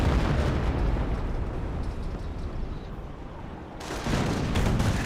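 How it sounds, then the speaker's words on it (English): An M2 gun firing in the World War II strategy game Company of Heroes makes continuous booming blasts and explosive rumble, dipping briefly before loud bursts resume near the end. "M2 firing away."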